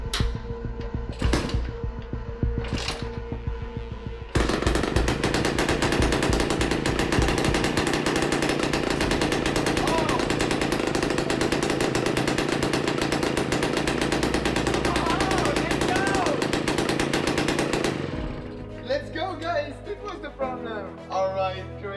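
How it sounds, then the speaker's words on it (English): A motorcycle engine turns over with a couple of starter bursts, then catches and runs with a loud, steady rattling roar for about fourteen seconds before dropping to a rougher idle, while a voice talks over it. "Let's turn on the bike and see."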